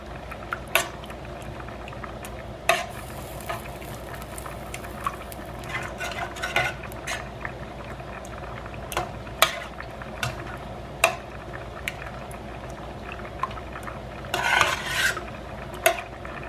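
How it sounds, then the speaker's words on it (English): A spoon stirring a stuffed pepper filling mixture in a bowl, with soft wet scraping and repeated sharp clinks of utensil against the dish, the clinks irregular over a low steady background. "Get a bit of good mix up."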